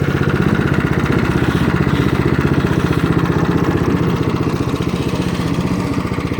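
Craftsman snowblower engine chugging steadily after start-up, a loud, close, rapid single-cylinder putter at a constant idle with no talking.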